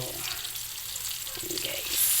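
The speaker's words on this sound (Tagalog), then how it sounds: "isunod na natin agad itong ating buro" Fermented rice with tilapia (buro) goes into a pan of browned tomato, ginger, onion and garlic and sizzles steadily, a continuous close frying hiss for the whole stretch.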